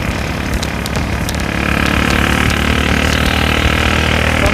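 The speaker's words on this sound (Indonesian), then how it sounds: "saringannya itu dilepas, jadi suaranya tetap baper, cuman saringannya dilepas ya agak keras aja untuk suara itu" Motorcycle idling loudly with its exhaust filter removed, a steady close rumble that rises slightly partway through, no talk over it.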